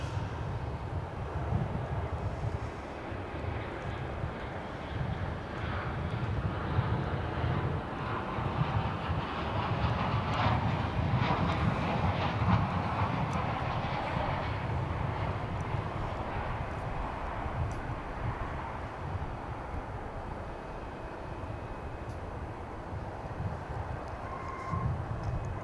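A steady roar from an arriving Guadalajara flight rumbles on at DFW airport, a moderately distant airliner growing a bit louder midway before easing off, with no voices.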